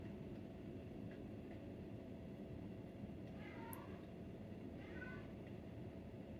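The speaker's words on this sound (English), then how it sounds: "If you could hear my cat" A cat gives a couple of short meows over a constant low rumbling background, fairly faint and at a moderate distance.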